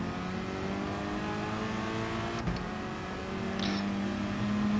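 A car engine revs in Gran Turismo Sport, a steady droning engine note that holds a sustained pitch and climbs slightly near the end, with a brief click partway through and no talking.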